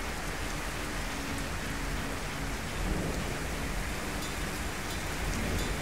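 Heavy rain pours steadily in Bangkok during a walk outdoors, a continuous loud hiss of drops striking the ground and surfaces, with a faint low rumble beneath and no talking.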